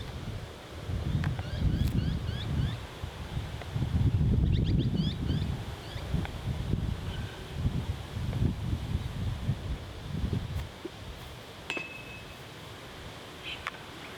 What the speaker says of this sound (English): it's horrifically windy here